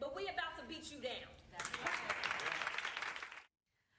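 A voice speaks briefly, then an audience at a political speech breaks into loud, sustained applause for about two seconds before it cuts off sharply into silence.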